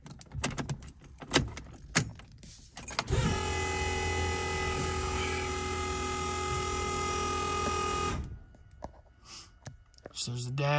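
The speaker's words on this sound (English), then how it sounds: "Fuel pump's a little loud" Electric fuel pump in a turbocharged Fox-body car, a steady loud whirring hum that runs for about five seconds and then cuts off, with clicks and shuffling sounds before and after.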